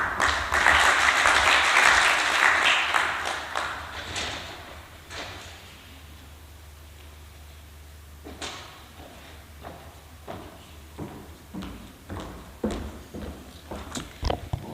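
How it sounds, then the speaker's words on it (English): A burst of audience applause at a conference for several seconds, then it dies away into scattered light claps and small knocks in a quieter room. "Another round of applause for Jolly Ntaba, ladies and gentlemen."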